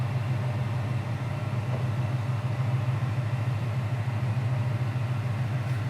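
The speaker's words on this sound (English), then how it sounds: "Idles at about 500-600 RPMs." A 1969 Chevy Camaro restomod V8 idles at about 500-600 RPM with a low, steady, rumbling burble, close and continuous, no talking over it.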